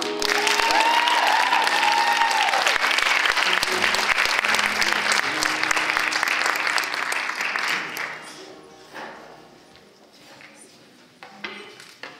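Audience at the Black Arts Festival Showcase applauds the Kuumba Singers of Harvard College after a choir performance, a loud dense burst of clapping with some cheering that fades out over the final seconds, with a voice briefly over it.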